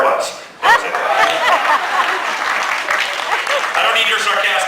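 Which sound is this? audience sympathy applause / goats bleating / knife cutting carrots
audience sympathy applause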